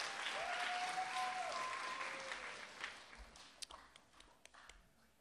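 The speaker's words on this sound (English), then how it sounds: "Give contestant three a round of applause" An audience applauds a contestant at a 2016 spelling bee: a dense, steady round of clapping that gradually thins out, ending in a few scattered, separate claps.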